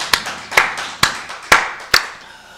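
Congregation at a Wednesday church worship service claps in a slow, even rhythm, five crisp, sharp claps spaced about half a second apart, close and distinct with quiet gaps between them.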